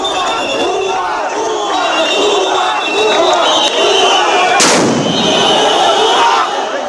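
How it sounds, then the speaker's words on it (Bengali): Sound grenades thrown by police to disperse protesting teachers at a sit-in, heard amid a loud, continuous crowd din with shouting, plus a sharp blast about two-thirds of the way through. "অবস্থানরত শিক্ষকদের ছত্রভঙ্গ করতে এভাবেই নিক্ষেপ করা হয় সাউন্ড গ্রেনেড।"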